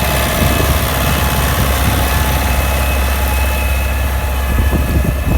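An MTZ tractor engine runs loudly and close by on its first job, a steady low diesel rumble with constant vibration and no break in the drone.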